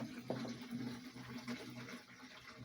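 Urine flows from a barrel into a container in a continuous, fairly faint splashing trickle with small gurgles.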